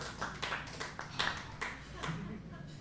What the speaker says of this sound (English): Let's give Stuart a round of applause